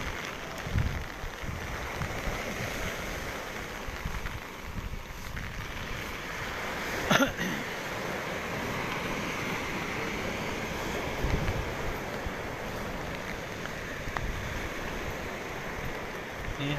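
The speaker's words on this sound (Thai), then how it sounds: "นี่ครับตอนนี้ก็มีฝนลงปล่อยๆครับคลื่นก็เริ่มลูกใหญ่ขึ้นครับ" Rain falls steadily while waves build during Storm Pabuk at the coast, a continuous broadband wash of water and gusting wind buffeting the microphone, with a brief louder surge partway through and no voices.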